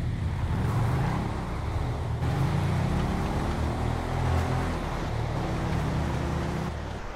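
Chevrolet Nova drag race cars launching hard off the line in the GTA Street Outlaws street racing game, a continuous loud engine roar with shifting harmonic tones that rises and sustains throughout, no talking.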